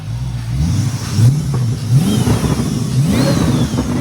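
A Chrysler 300 with a swapped 6.4L HEMI V8 and straight pipes revs repeatedly with the hood up, the deep exhaust note rising and falling in several blips over a steady loud idle.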